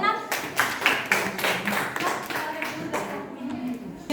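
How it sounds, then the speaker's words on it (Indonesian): A school class applauds a student group after their informatics presentation, a lively burst of clapping with some voices mixed in, close and fairly loud. "Oke, tepuk tangan dulu buat kelompok 6."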